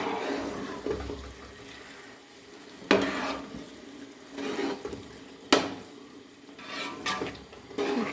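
A spatula stirs thick jackfruit halwa cooking in ghee in a pan, with soft scraping and sticky sizzling and several sharper scrape strokes at irregular intervals, close and fairly quiet.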